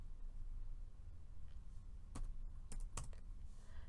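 A computer keyboard being typed on while entering programming code, heard as a few scattered, crisp key clicks in the second half over a steady low background hum.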